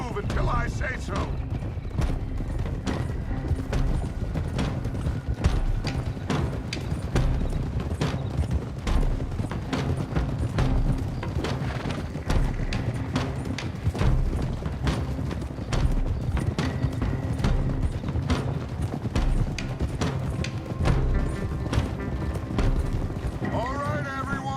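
Horses' hooves clop steadily in Red Dead Redemption 2, a dense, rhythmic trotting of several mounts that continues loud and unbroken, with talk over it.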